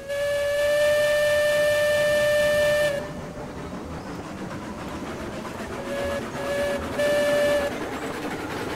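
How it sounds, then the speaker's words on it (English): Loud, steady steam locomotive whistle in the video game Railroads Online, held for about three seconds, then quieter chuffing and rolling with three short whistle toots later on. "Whistle"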